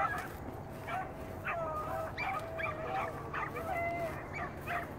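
Several short, high-pitched whimpers and yips from young sled dogs during offseason running, repeated irregularly over a steady low background hum.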